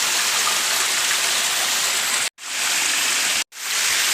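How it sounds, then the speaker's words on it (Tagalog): Water from a hose sprays onto gravel, a loud, dense hiss like heavy rain, close by, broken by two brief cutoffs where the spray stops and restarts. "hose tubig. Sprayan mo lang."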